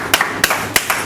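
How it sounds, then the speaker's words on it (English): Audience applause at a religious gathering, heard as a brief burst of a few sharp, distinct claps close by rather than a full sustained ovation. "Let's give Sister Ladio and Brother Ashton a warm round of applause."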